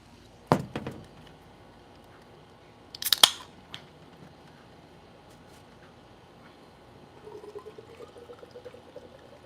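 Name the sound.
pouring a drink into a glass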